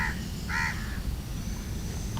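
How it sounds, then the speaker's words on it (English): Birds around large bird houses in Sekinchan give two loud, harsh caws, one at the start and one a moment later, over a steady outdoor background hum. "the birds are making a lot of noise"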